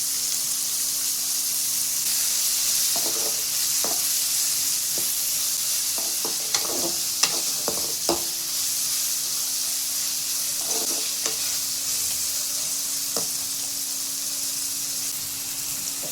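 Onions, curry leaves and two dried red chillies sauté in a pan for a children's chutney, with a steady hiss of frying and scattered clicks of stirring against the pan. No one speaks.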